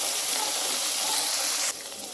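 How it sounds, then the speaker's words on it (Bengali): Fried prawns stirred into sizzling masala for a prawn malai curry, a loud steady hissing sizzle that drops suddenly to a quieter simmer near the end, no voices. "আমি ভালো করে এখন মশলাটার সাথে নেড়ে চেড়ে মিক্স করে নিব।"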